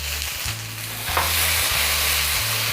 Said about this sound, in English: Let the veggies kind of cook here.